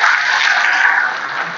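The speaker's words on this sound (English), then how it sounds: "another round of applause, please" Audience applause following an inaugural lecture at Gombe State University, a dense steady clapping from a large hall crowd, sustained at even loudness throughout with no speech over it.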